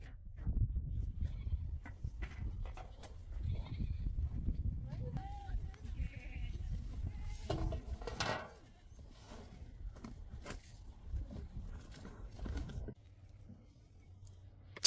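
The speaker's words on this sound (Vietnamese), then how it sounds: "đang gọi đàn dê trong nhà" A herd of goats at a nomadic family's home in the Iranian mountains bleats repeatedly at dusk as they are called in, the cries overlapping near and far while people talk and call nearby.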